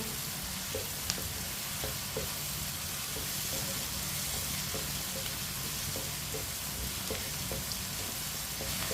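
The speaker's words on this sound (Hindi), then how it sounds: "अब देखें, शिमला मिर्च डाल लेंगे। शिमला मिर्च को भी 1 मिनट के लिए पका लेंगे।" Capsicum fries in a pan with a constant, even sizzle and occasional faint clicks of stirring, close and continuous with no voices.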